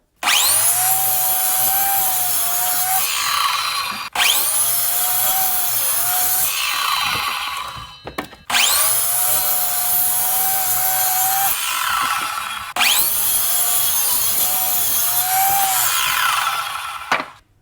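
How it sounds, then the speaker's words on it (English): Miter saw slicing through wood for homemade camper levelers, four loud whining cuts of about four seconds each, separated by brief pauses, with no talking. "I have a miter saw, so I'm gonna use that"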